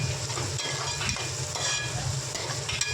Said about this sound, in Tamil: இன்னொரு பாத்திரம் எடுத்து அதில் சிறிதளவு எண்ணெய் வெந்தயம் சோம்பு வெங்காயம் பூண்டு கருவேப்பிலை எல்லாம் போட்டு நல்லா வதக்கிக்கலாம்